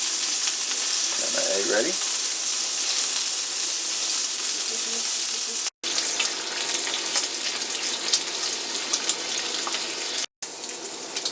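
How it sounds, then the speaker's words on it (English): Butter sizzling in a cast iron skillet while an egg is readied, a steady close crackling hiss running throughout, briefly under a man's spoken words near the start. "That's just a little bit of butter I dropped in a pan when I was putting some in my skillet for the egg."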